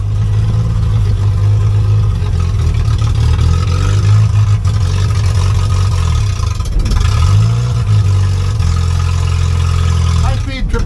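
Engine of a 1963 Hillman Super Minx car pulling away in a forward gear, a loud close low-pitched hum that rises and falls steadily as it drives off.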